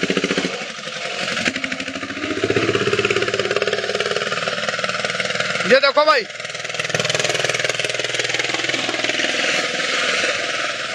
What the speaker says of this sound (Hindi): कैसे चल रहा है ट्रैक्टर अपने आप